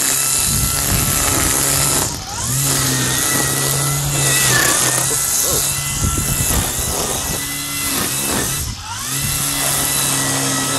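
A Hart 40V cordless string trimmer whines steadily and loudly as it cuts weeds, its motor pitch rising and dipping briefly as it cuts through growth.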